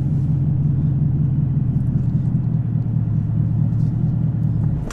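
A Chevrolet Camaro ZL1 with a manual gearbox gets a little gas, and its engine gives a steady deep, loud rumbling idle with a faint rise in revs, close by and without voices.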